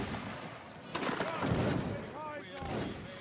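In the video game Napoleonic Wars, a line battle has scattered musket volleys cracking and popping from near and far, while a player's voice can be heard calling out over the shots.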